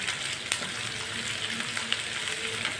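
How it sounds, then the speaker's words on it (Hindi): Finely chopped onions fry in a hot pan with a steady, close crackling sizzle, broken by a few soft scrapes of a spoon stirring through them. "दो प्याज बारीक कटे हुए, प्याज को भी 1 मिनट के लिए फ्राई कर लेते हैं।"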